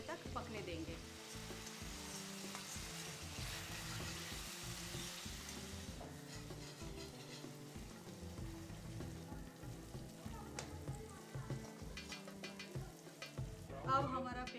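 Onions fry in a pan until browned, a faint continuous sizzle with soft crackling and occasional stirring scrapes, quiet and without talk.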